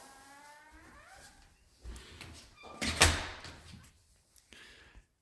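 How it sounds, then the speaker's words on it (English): A rusty door swings open with a creak and a clunk, a rasping burst in the middle followed by a few quieter knocks, close by, with no voices. "Door's a little rusty, but oh well."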